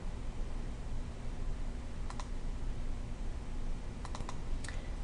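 Typing on a computer keyboard while entering details into a document, with a few quick bursts of light key clicks over a steady hiss of background noise, no talking.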